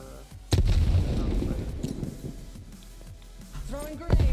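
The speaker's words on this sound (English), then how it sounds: "Burst fire, by the way." Burst-fire gunshots in a video game, loud booming reports opening with a heavy blast, followed by rumbling echoes and another sharp burst near the end, with a voice talking over the shooting.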